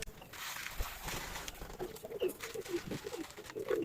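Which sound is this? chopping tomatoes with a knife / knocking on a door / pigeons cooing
pigeons cooing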